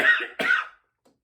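Two quick coughs, close and fairly loud, the second following right after the first, then silence.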